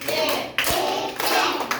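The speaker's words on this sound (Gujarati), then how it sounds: "ત્રણ તાળી પાડવાની" Children in a school circle-time activity clap their hands together in class, a few sharp claps standing out over a busy room, at moderate loudness.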